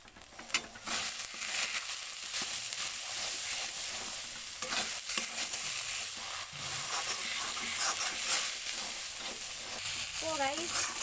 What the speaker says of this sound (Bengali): এবার একটু ভালো করে নাড়াচাড়া করে মশলাটাকে মিক্স করে নিই